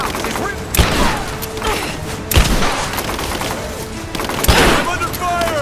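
Rapid bursts of gunfire in the Rise of the Tomb Raider video game, loud and close, with several sharp volleys spread across the clip amid a busy battle din.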